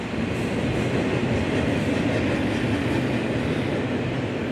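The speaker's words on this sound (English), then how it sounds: "There's a train going by right up there." A train passes near the abandoned Ashland plant in Cleveland, a dense continuous rolling rumble with faint rhythmic wheel clatter, steady and fairly loud throughout.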